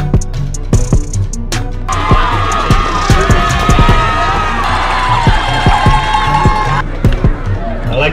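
A crowd roars and cheers steadily at a North Carolina high school football playoff game between Chambers and Hickory Ridge, a dense, close wash of voices with shouts and whoops that swells, then eases near the end.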